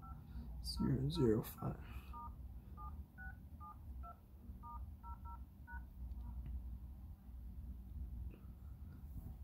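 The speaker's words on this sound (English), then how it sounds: "From here, you will dial pound or star" Touch-tone keypad beeps sound on a phone's emergency call dialer: a string of short, evenly paced tones, close and clear. A brief burst of speech comes just before the tones begin.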